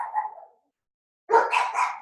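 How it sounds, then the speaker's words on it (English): Dogs bark indoors: a short bark, a brief silence, then a louder burst of several sharp barks in quick succession, close by with no talk over them. "My dogs are barking."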